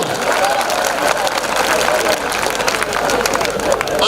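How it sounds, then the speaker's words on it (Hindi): An audience at a Hindi comedy poetry show claps in a dense, continuous burst that runs throughout, with crowd murmur mixed in at a fairly loud, roomy level. "सारे मिलकर ताली बजा दो तो मैं शुरू हो जाऊंगा।"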